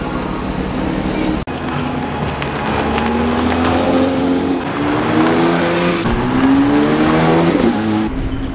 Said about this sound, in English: It looks like a lot of Porsches are going on the circuit right now.